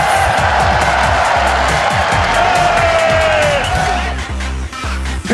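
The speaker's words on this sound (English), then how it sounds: "The crowd is obviously amazing." Large arena crowd cheering and whooping at an esports finals in London, a loud, dense roar with rhythmic pulses that thins toward the end, a commentator's voice mixed in.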